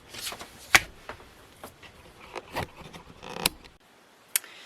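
Scissors cutting cardboard from a Lucky Charms cereal box for a book spine, a series of crisp snips and rustles, close up, with scattered sharp clicks and a short pause near the end.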